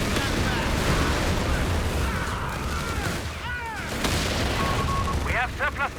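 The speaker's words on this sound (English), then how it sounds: "Shots coming in now." Incoming gunfire and explosions from a Company of Heroes 3 battle rumble dense and loud throughout, mixed with game announcer voices and music, with a person talking over parts of it.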